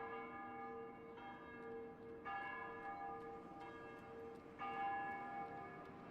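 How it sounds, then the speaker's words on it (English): Church bells toll for plague victims, a steady sequence of resonant strikes with long ringing decay, heard at a moderate distance with no voices. "the bells toll on for those taken by the plague"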